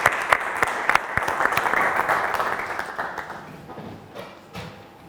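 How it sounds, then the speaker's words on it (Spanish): A crowd claps steadily for two speakers at a talk on schooling and education, a dense wash of applause that starts strong and slowly thins out, with a few sharp individual claps standing out near the end. "pido un aplauso fuerte para los dos"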